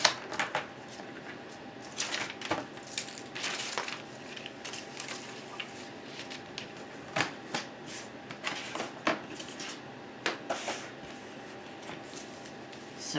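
Vellum paper being trimmed at the edges down to 7 1/4 by 11 inches for a poppy luminary craft: a run of crisp, close, quiet cutting and rustling strokes in irregular bursts, with no talking.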